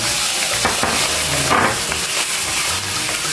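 Shrimp fry in hot oil for laksa, a loud, steady sizzle and hiss throughout with occasional stirring scrapes in the pan.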